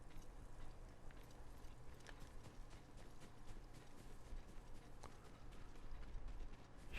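A horse's hooves clip-clop in the video game Ghost of Tsushima, a quiet, irregular stepping rhythm over a low ambient background, with no speech.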